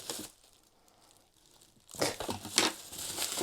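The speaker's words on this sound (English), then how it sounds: "Let's get the trusty scissors" Scissors slicing open a plastic postal parcel holding second-hand video games, starting with a faint crinkle, then loud crackling and tearing of plastic near the microphone.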